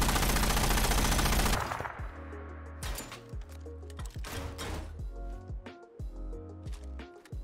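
A Mark 19 grenade launcher from a Fallout 4 mod fires a dense, roaring burst before giving way to a sequence of heavy mechanical clanks and thuds of a reload, each hit sharp and close.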